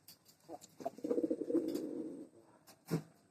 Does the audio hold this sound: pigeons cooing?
yes